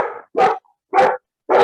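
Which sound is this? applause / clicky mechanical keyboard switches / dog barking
dog barking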